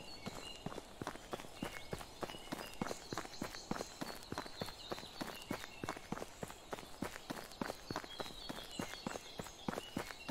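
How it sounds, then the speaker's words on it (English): Rapid, steady footsteps of a character walking and running in the medieval survival game Medieval Dynasty, crunching in a dense, regular rhythm across the whole stretch, fairly close and alone without talk. "my turning is actually what's causing all the footsteps"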